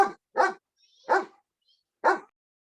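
A dog barks four times at home, each bark short and fairly close, spaced by pauses of about half a second to a second.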